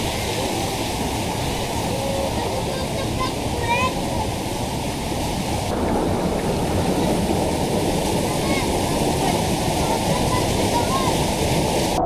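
Taytay Falls in Majayjay pours down in a loud, steady roar of falling water that fills the whole scene, with a voice faintly audible beneath the rush.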